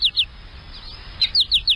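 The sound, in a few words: birds chirping in smart bird feeder advert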